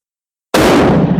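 A single loud gunshot from a Carcano carbine fired for groups at a range, a sharp sudden blast after silence followed by a short booming decay.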